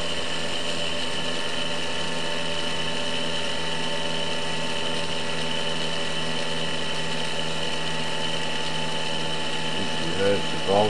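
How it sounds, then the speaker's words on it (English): A homemade optical-sensor-triggered two-phase pulse motor hums steadily with a dense whine, its rotor spinning down, before a couple of brief clicks near the end. "You can hear the rotor slow down."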